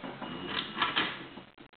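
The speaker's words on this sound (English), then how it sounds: "we're going to switch the printer on" An Epson Stylus C84 inkjet printer powers on with a busy mechanical whirring and clattering of its internal carriage and rollers, steady and close for nearly two seconds before it cuts off.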